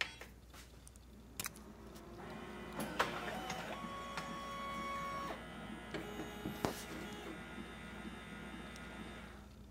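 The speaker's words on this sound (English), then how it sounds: "And this is warming up, and I actually had the printer set to energy saver function 2." A Ricoh SP C261SFNw color laser printer wakes from energy-saver sleep and warms up, with clicks and clunks, whirring motors and sustained mechanical tones rising over a low hum, close by and fairly quiet.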